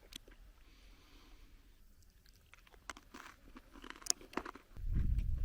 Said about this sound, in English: Let's try a little bit on one of these crackers.